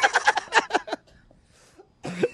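A man coughs in a quick burst of several hacking coughs, loud and close, followed by a pause and a short throat-clearing rasp.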